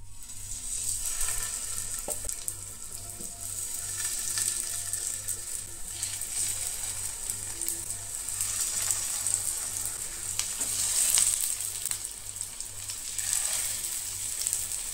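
Soya kababs fry in a pan with a continuous, even sizzle and crackle that holds steady for the whole stretch, with no speech over it.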